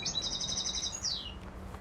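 Recorded bird song plays from a laptop aboard a camel boat: a quick series of high, bright chirps ending in a sliding whistle, clear and fairly close over a low, steady background hum.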